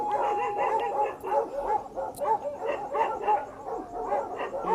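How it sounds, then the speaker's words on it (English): Several dogs on a dog farm bark repeatedly in an uneven, overlapping chorus with a few yips, at moderate distance and steady volume, with no speech. "I can literally start when these dogs stop because I don't know what's coming"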